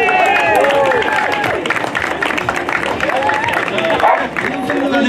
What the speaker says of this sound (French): Voilà, on peut les applaudir très fort.